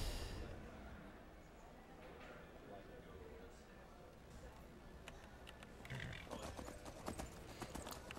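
Horse hooves clip-clopping in the video game Skyrim, quiet and faint in a soft steady rhythm with scattered clicks, while a person talks over them.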